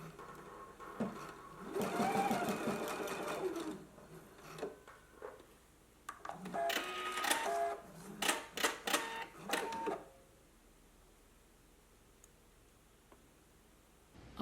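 A sewing machine stitching short back-and-forth tacks to join dress bodice pieces at a marked circle, running in close, steady mechanical bursts with brief pauses, then stopping into quiet room tone.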